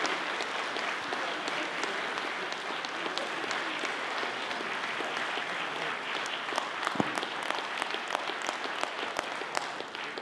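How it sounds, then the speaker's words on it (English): Steady, dense applause from a convention panel audience fills the room, sustained and even throughout with a few sharper individual claps standing out near the end. "Give him another clap."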